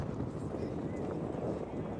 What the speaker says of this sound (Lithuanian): Vėjas tai iš akis.